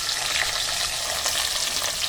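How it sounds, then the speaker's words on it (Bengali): Potatoes fry in hot oil with curry leaves and nigella seeds, a loud, steady sizzle with a stirring hiss running without pause and no voices over it. "তেলেতে কারি পাতা আর কালো জিরে দিয়েছি এবার আলুগুলো দিয়ে দেবো"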